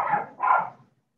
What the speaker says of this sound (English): Somebody's dog is barking.